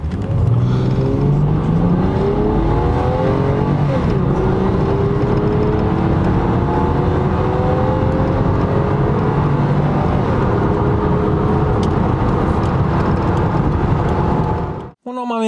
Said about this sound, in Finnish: nyt kokeillaan tää 0-100 kiihtyvyys